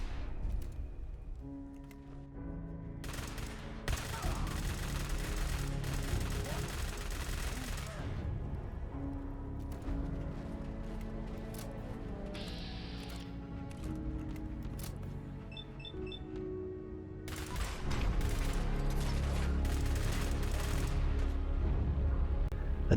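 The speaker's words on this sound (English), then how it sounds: "this weapon it has a kind of a cool spark effect when it hits targets, but it also has the flame as well" Modded plasma weapon in Fallout 4 firing in loud, sustained bursts of rapid shots with sparking, flame-like impacts. Dense and continuous over a musical backdrop, with the heaviest volley near the end.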